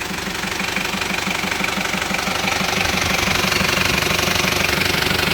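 A diesel car engine runs steadily up close with a rapid, even clattering knock at idle, loud and unbroken, with no talk.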